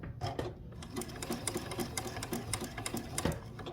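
A sewing machine stay-stitches the edge of a quilt block, running in quick rapid bursts of needle clatter with short pauses between, close and alone.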